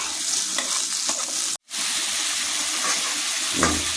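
Onions sizzle steadily in oil in a pan with a brief cut in the sound, then stirring scrapes near the end; no one speaks.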